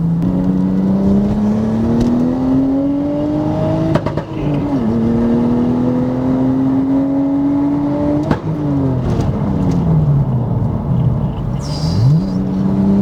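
A Nissan R34 Skyline, converted from automatic to manual, accelerates hard from inside the cabin. Its engine pitch climbs through the gears with two sharp shift breaks, loud and continuous, before a final downshift dip.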